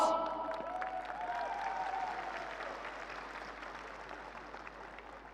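Audience applause at a large global event, a broad, fairly quiet wash of clapping that starts fuller and slowly tapers, with faint tonal sounds in the opening moments.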